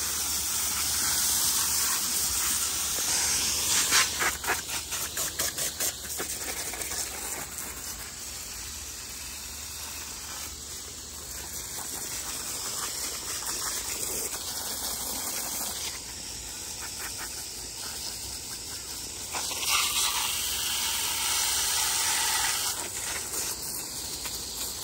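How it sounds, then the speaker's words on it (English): A garden hose sprays water steadily in an outdoor fall vegetable garden, a continuous broadband hiss and gush with brief surges in strength, close and fairly loud, with no talking. "Let me just finish watering the garden"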